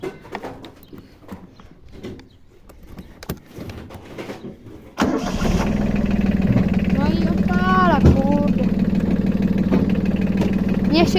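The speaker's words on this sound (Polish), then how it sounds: "grzeje silnik" A Yanmar tractor engine in neutral, warming up, sets into a loud, steady diesel idle rumble after a few quiet seconds, with a voice briefly heard over it.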